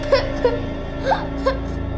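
A child in a TV crime drama whimpers and sobs from inside a ruined building, short high-pitched crying bursts repeating four times over a steady low background hum.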